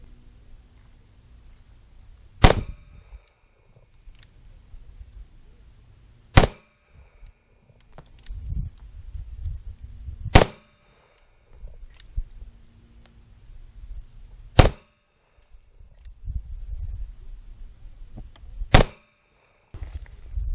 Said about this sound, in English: .357 Magnum Leverlution out of a 4-inch Smith & Wesson 686.